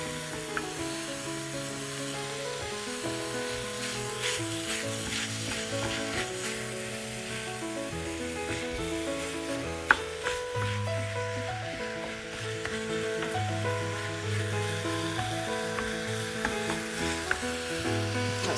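Turkey sausage cooking in a pan, a continuous soft sizzle with occasional scrape clicks, heard under steady background music with no talking.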